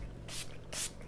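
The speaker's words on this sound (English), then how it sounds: "I am going to spray one more time" Makeup setting spray from a Skindinavia bottle mists onto a face in two short, close hissing bursts, about half a second apart, with no talking.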